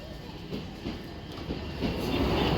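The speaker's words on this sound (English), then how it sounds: "The next train to arrive at platform 8 will be the 1452" A C2C train pulling into a platform at Stratford station, a steady rumbling roar of wheels and carriages that builds gradually, with no clear voices.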